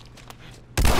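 A single loud gunshot from the video game The Last of Us cracks abruptly after a quiet stretch of faint game ambience.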